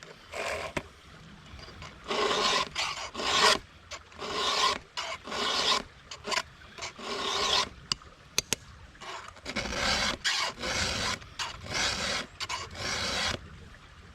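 A round file sharpens a 3/8-pitch, 1.6 mm gauge chainsaw chain, producing close, rhythmic rasping strokes in bursts of about a second separated by short pauses, fairly loud and without talk.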